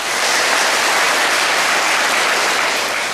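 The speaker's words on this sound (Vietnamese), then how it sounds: "quá tốt, cho một tràng pháo tay." Loud, dense applause from an audience of young students at a Buddhist nun's Dharma talk, a continuous wash of many hands clapping at once, sustained evenly throughout with no voices.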